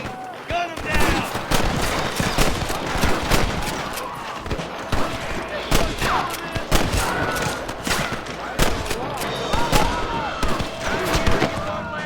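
Rapid volleys of gunfire in the video game Red Dead Redemption, with dense cracking shots fired in quick bursts and overlapping one another, continuing loud and close throughout.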